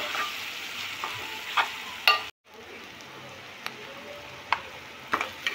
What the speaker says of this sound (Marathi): हळद टाकल्यानंतर त्याला छान असं परतून घ्यायचं।